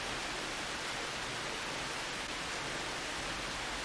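Steady, dense rain falls evenly with no breaks, a constant soft hiss that stays close and unchanging throughout.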